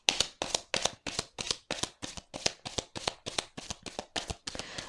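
Tarot cards being shuffled for a reading, a steady run of about fifteen crisp riffling bursts at an even rhythm, close and clear with no talking.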